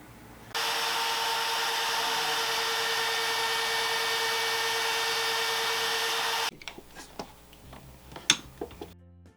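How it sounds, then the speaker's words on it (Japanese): A steady, even power-tool whine holds for about six seconds while an 8 mm bit deepens a recess in a wooden jig base, then cuts out, followed by a few light knocks and handling clicks. "このネジが埋まるようにここに8ミリのビットで"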